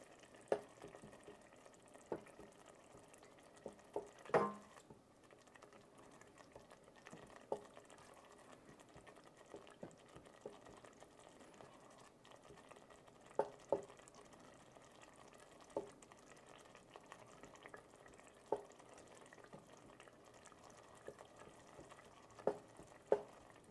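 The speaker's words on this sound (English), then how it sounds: "I'm sure you guys can hear the splatter." Food sizzles and spatters quietly in a hot pan, with scattered sharp pops and crackles over a steady low fry.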